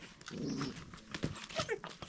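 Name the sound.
German Shepherd dog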